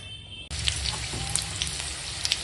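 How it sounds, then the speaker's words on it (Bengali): Green and dried chillies crackle in hot oil in a wok, a sudden steady sizzle that starts abruptly and keeps hissing with small pops and spits, close by with no voices. "দেখো কড়াই তেল গরম হয়ে গেছে, আর দিয়ে দিয়েছি কাঁচা লঙ্কা শুকনো লঙ্কা ফোড়নে"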